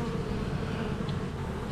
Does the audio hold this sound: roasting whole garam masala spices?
no